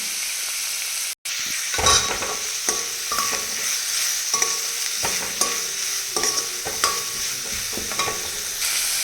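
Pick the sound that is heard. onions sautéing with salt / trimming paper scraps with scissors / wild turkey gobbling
onions sautéing with salt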